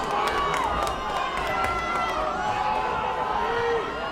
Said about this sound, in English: Crowd's trying to get into it.